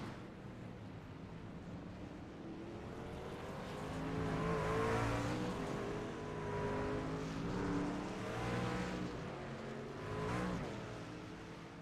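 Racing truck engines in a truck racing video game on the Kansas road course, a continuous roar with rising and falling revs as trucks pass, steady and moderately loud, with no talk.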